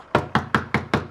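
Five quick, evenly spaced knocks on the back door in a Peppa Pig cartoon, crisp and close with no voices over them.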